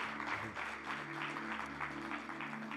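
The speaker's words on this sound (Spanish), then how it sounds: "Vamos a darle un aplauso a Dios" Church congregation applauding, a steady wash of clapping from many hands at moderate distance over a low sustained musical tone.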